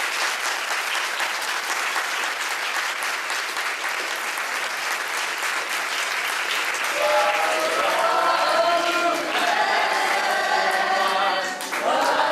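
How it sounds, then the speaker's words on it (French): Sustained, dense applause from an audience at an improv comedy show, loud and continuous throughout, with cheers and voices rising over the clapping in the second half. "Alors, on va applaudir, ça va le faire venir"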